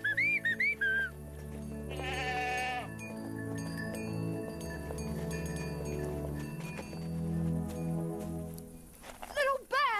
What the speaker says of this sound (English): Come on, move your tails, you lazy goats!